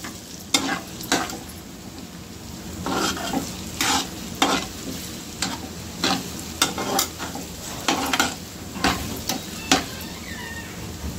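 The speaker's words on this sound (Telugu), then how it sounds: "కడాయిలో నూనె వేసుకుని ఈ ఉల్లిపాయ ముక్కల్ని వేపుకోవాలి" Onion pieces fry in hot oil in a kadai for a home-style chicken curry, a steady sizzle broken by repeated sharp stirring scrapes at an even pace, close and clear with no talking.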